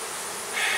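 Honeybees buzz in a short, close burst while brood boxes are added to a hive, a steady insect drone that swells slightly at the end.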